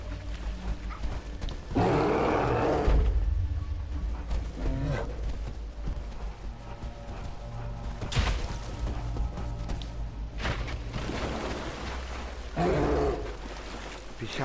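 Bear in the video game Never Alone, played on PS4, giving low roars and grunts in several loud bursts over continuous game music and ambience.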